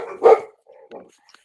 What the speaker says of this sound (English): Also, dog cameo.